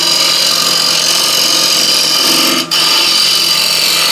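A square scraper cuts a wooden bowl spinning on a lathe, a loud, steady scraping whir with one brief break near the end and no talk.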